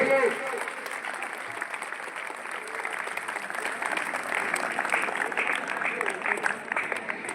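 An audience at a school science exhibition claps steadily for several seconds, the dense applause building slightly louder toward the end, with some voices mixed in.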